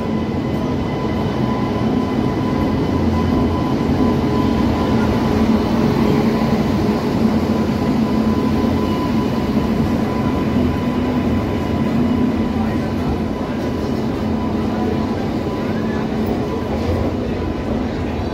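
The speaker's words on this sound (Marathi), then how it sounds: "एक्सप्रेस लागते आता प्लॅटफॉर्मला" A delayed Hazrat Nizamuddin–Pune Special Express rolls in alongside a station platform, its loud, continuous rumble and wheel noise holding steady and close throughout.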